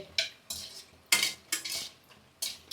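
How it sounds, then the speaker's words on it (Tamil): Buttermilk chillies are stirred and roasted in a pan, with a spoon or spatula scraping against the metal in about six close, sharp strokes at an uneven rhythm. "வாசனையே அருமையாக இருக்குங்க வறுக்கும் போதே."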